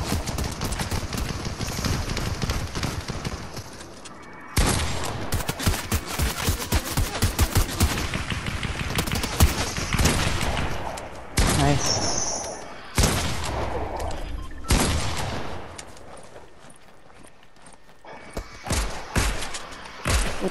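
Dense, loud bursts of rapid gunfire in a Fortnite no-build trios match, sustained automatic fire broken by short gaps and heavy thumps, with no voices over it.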